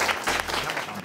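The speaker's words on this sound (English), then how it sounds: "Please give a round of applause for Arne Duncan." An audience gives a steady round of applause for Arne Duncan, US Secretary of Education, at a school visit, a dense wash of clapping from many hands throughout.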